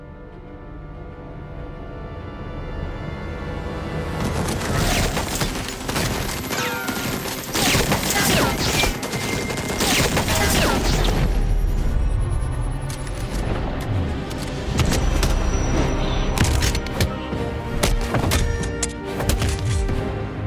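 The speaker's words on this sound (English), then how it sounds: "Sound like gunfire." Rapid bursts of gunfire crackle and thud throughout, loud and sustained like a firefight, with sharp cracks overlapping in dense volleys.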